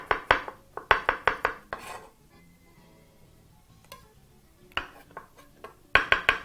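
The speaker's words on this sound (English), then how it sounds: "with your mushroom laying flat on the board with a flat side at the bottom, begin to chop just as you did with the red onions" A knife chops mushrooms on a cutting board in quick bursts of sharp, close knocks, then pauses for a few seconds before another short run of rapid chops.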